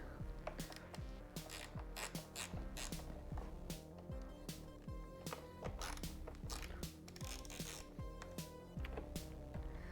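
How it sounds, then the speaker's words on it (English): A ratchet wrench with an 8mm socket loosens the two battery terminals on a Honda Grom MSX125 motorcycle. Quick, fairly quiet clicking comes in repeated bursts, close up, with no voices. "And then I'm just going to loosen the 2 battery terminals using an 8mm socket."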